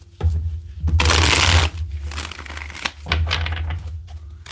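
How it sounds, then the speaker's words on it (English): Card shuffling: a loud riffling burst, then softer shuffling and a second riffle, close up with no talking. "Let's get two more shuffles."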